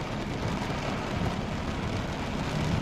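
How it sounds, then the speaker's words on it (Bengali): Heavy rain pours down in Al Ain, United Arab Emirates, as a steady, dense, broadband hiss and rumble that stays even throughout, with no voices. "প্রচুর বৃষ্টি হইতেছে আলাইন"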